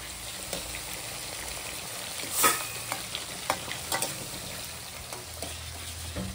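Fish frying in a pan as part of a large home batch of fish fry, a steady close sizzle with stirring and scraping, one louder burst of crackling midway and a few sharp clinks.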